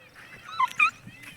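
A female dog whimpers outdoors at a village dig site, a few short high whines close by over soft background noise.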